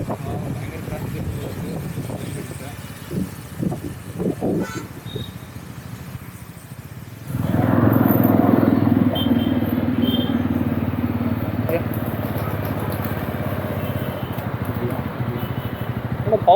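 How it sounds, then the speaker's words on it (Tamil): Heavy road traffic around a rider on a Jawa 42 motorcycle: a dense, steady rumble of engines and wind noise that swells abruptly partway through and holds loud and close. "பயங்கர டிராஃபிக்"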